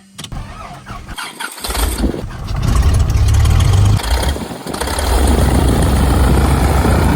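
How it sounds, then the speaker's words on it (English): A six-cylinder, horizontally opposed, air-cooled, 9-liter aircraft piston engine cranks with sputtering bursts, catches, and roars up into a loud, steady rumbling idle. "That is a 6-cylinder, horizontally opposed, air-cooled, 9-liter engine."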